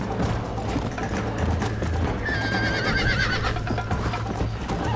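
A horse in the Red Dead Redemption video game whinnies shrilly over a dense bed of hoofbeats and game noise, the neigh rising and warbling for about a second midway through.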